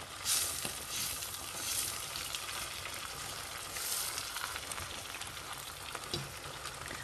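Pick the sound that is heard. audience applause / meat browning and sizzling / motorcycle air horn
meat browning and sizzling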